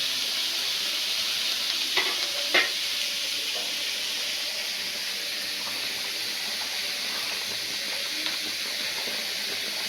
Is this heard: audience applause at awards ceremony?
no